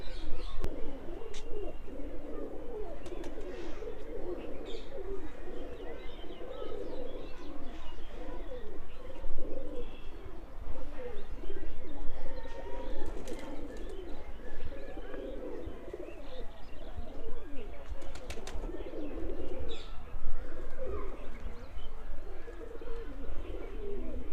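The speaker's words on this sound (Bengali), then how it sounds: "চলেন আপনাদেরকে কবুতরগুলো একবার ভালো করে দেখাই" Many pigeons in a loft coo continuously in overlapping, throaty murmurs, with scattered chirps and faint rustles throughout and no voices.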